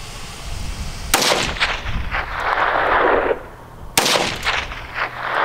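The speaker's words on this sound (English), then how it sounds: "I'm going to shoot a couple close, and then we'll go far again." Two loud rifle shots fired at a target bush 270 yards away on an outdoor range, each a sharp crack followed by a long rolling echo that fades over a couple of seconds.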